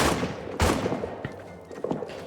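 Rifle volleys from troops in the trench-warfare video game All Quiet in the Trenches, several loud, sharp bursts overlapping in quick succession with a rumbling, echoing tail.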